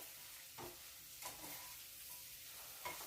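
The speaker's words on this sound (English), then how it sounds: "Just takes a minute for those eggs to cook up." Eggs fry in a pan for a sausage breakfast, a steady soft sizzle with a few brief scraping or stirring bursts, fairly quiet and alone.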